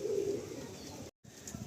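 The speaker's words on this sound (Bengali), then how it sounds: "এবার 4টে নর পায়রা আপনারা দেখুন" Madrasi pigeons at a sale coo in a low, throaty murmur, close by and loud at first, then softer, with a brief silent dropout near the end.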